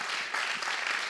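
An audience at a comedy club applauds the control room crew, a dense, steady wash of many hands clapping at once that fills the room and never breaks.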